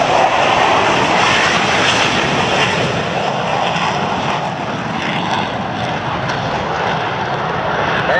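An F-16 fighter jet flies past at a military air show in landing configuration with its speed brake raised, a loud broad engine roar sustained throughout with slight swells.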